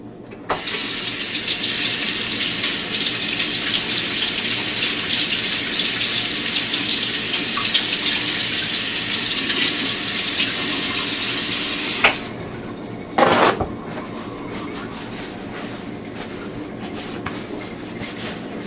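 Hands washed under a running kitchen tap, a loud steady gush of water for about twelve seconds, then the flow stops, followed by a brief splash and quiet room tone.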